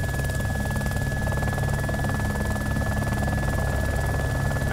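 Steady, loud helicopter rotor and engine drone in the DayZ video game, with a constant low thrum and a fixed high whine running unbroken throughout, no voices.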